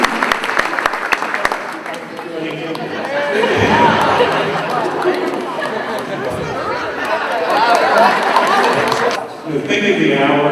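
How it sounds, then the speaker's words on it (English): A school ceremony audience breaks into sustained applause for the parents, grandparents and support network of college-bound athletes. The clapping swells loudly, mixed with crowd chatter, before tapering off near the end. "If you guys could give them a round of applause."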